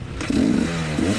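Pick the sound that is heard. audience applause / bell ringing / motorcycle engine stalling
motorcycle engine stalling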